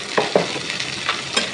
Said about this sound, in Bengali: এদিকে আমি কাঁচা মরিচ পেঁয়াজ কাটাগুলো সব দিয়ে দিব